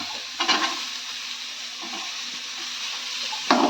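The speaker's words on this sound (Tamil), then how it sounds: "நம்ம கத்திரிக்காய் வதக்கின எண்ணெயிலே மசாலாவுக்கு நல்லா ஒன்று போல் வதக்கி எடுத்துக்கிடுவோம்." Masala sautéing in the leftover oil from fried eggplant makes a soft, steady sizzle, broken by a few louder scraping stirs near the start and end.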